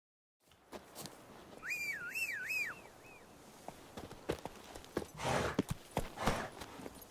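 Roach, the horse in The Witcher video game, gallops with a steady clip-clop of hooves, joined early on by a few rising and falling whistles and light rustling.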